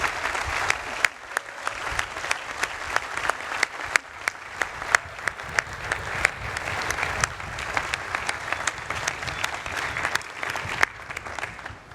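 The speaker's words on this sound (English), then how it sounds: "please join me in giving them a round of applause" A large crowd at the Harvard University Commencement 2015 afternoon exercises applauds steadily and densely, with sustained clapping from many hands filling the open-air gathering throughout.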